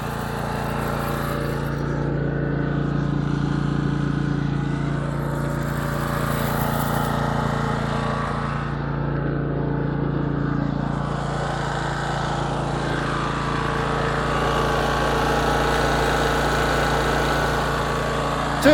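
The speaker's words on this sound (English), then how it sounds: "Hear the generator rising note." A generator engine with a small exhaust gas fan drones steadily and loudly at night for the whole stretch, its pitch wavering slightly and rising; no one speaks.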